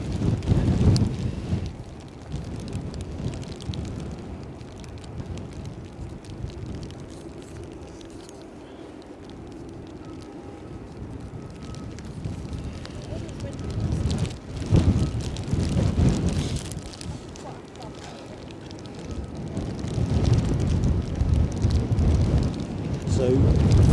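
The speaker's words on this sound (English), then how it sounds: "So, Welling, wind's back. Wind is back" Strong crosswind gusts of around 40 mph roar across the open ground at Edinburgh airport, a broad rushing buffet that swells and surges in waves with heavy wind noise on the microphone.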